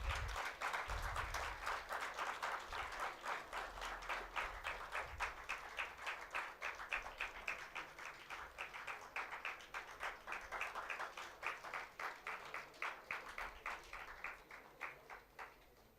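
Sustained applause from students at a talk, many hands clapping in a steady, dense rhythm that carries on for a long stretch before gradually thinning out.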